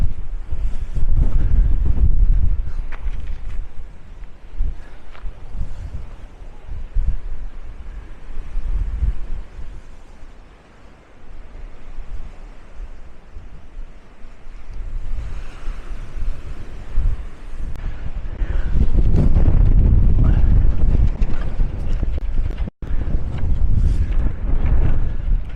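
Strong wind buffets the microphone on Papakolea green sand beach in Hawaii, a loud continuous roar of gusts with deep rumbling surges that rise and fall, and no talking.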